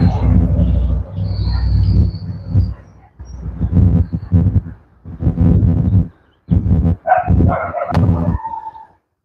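A dog barks in several close, loud bursts at a passing e-bike on a street, with rough breathy wind noise between barks and a few sharper higher yelps near the end.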